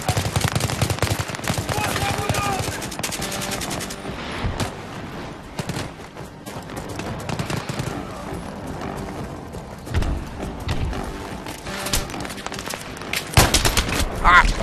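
Machine gun fire in a shooter video game rattles in dense, rapid bursts that run almost continuously, loud and close, with a few sharper blasts near the end.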